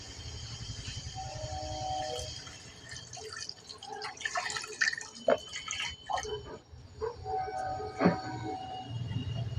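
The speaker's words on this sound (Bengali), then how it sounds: "জল দিয়ে নিচ্ছি।" Water poured into a pan while making mustard hilsa curry, close irregular splashing and trickling over a low hum, louder bursts toward the end.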